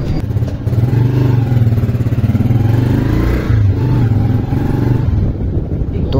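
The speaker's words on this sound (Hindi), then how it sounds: "तो गाइज अभी बाइक निकाल रहा हूँ बाहर" A motorcycle engine idles and revs close by as the bike is taken out, a loud steady rumbling throb with rattling and clatter, easing slightly near the end.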